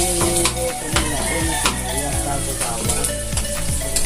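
Garlic fries in a pan for Filipino pakbet, a dense continuous sizzle with stirring and scraping strokes, close and loud, with faint talk in the background.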